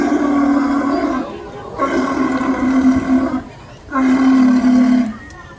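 A Californian sea lion at Taronga Zoo in Sydney gives three loud, drawn-out honking barks, each lasting over a second with short pauses between. A voice is faintly heard under the calls.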